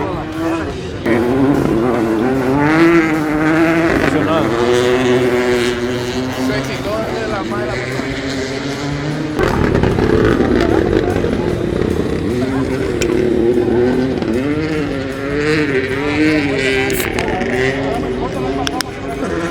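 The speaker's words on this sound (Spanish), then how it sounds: "Pasan tan rápido que no puedo ni ver el coche" Race cars speeding past at a motor race in Villarrica, Paraguay, a loud continuous engine roar rising and falling as vehicles pass close by, with crowd babble and talking throughout.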